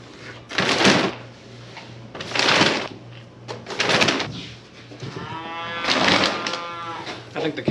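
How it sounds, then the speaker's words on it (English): Cattle moo and holler repeatedly inside a barn near a potato storage area, several loud drawn-out calls spaced a second or two apart, with faint clattering in between. "I think the cows know we're bagging potatoes. They're starting to holler."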